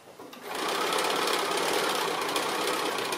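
A sewing machine back stitching over a mitered corner of a table runner pieced from 2 1/2 inch fabric strips, its rapid mechanical whirr starting after a brief pause and running steadily and close.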